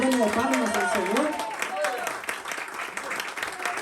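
Church congregation at a Pentecostal service clapping together as an offering of praise to God, steady loud applause throughout with a voice speaking over it.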